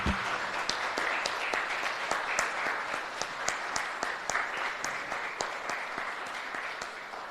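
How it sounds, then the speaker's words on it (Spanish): Steady applause from a church congregation, dense clapping that holds at an even level for several seconds with no talking over it. "Vamos a darle un aplauso a los que están por primera vez."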